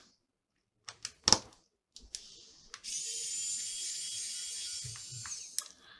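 A screwdriver backs screws out of a Dell XPS 15 7590 laptop. A few sharp clicks and taps come first, then a steady whirring grind of a few seconds, up close in a quiet room.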